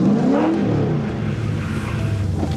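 A car drifts after countersteering, its engine roaring loudly and steadily with a rising then settling pitch, and a faint squeal of tires under the engine noise.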